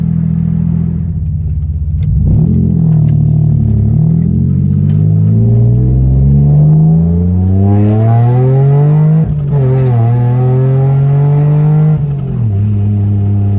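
A Mitsubishi Eclipse car engine revs hard through a full acceleration pull, the pitch climbing steadily, dropping at a gear change, then rising again, loud and close.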